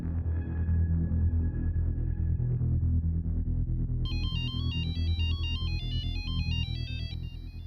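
A low rumbling drone gives way to an electronic phone ringtone, a bright repeating melodic pattern that loops several times.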